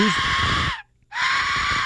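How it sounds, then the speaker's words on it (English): A piercing, shrieking Aztec death whistle blast that sounds like a human scream, sounded twice with a brief silent gap between, loud and close. "Blowing of a whistle. It's a whistle."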